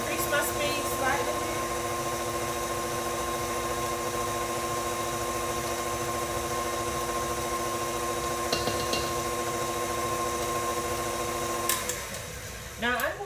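An electric stand mixer whirs without a break as it beats mahogany cake batter, a steady hum at an even pitch that shifts near the end as the speed changes.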